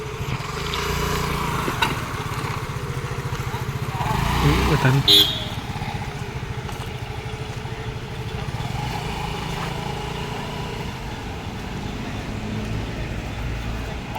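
A scooter engine runs steadily throughout as a new rider sets off alone, a brief louder rev near the middle, with faint voices in the background.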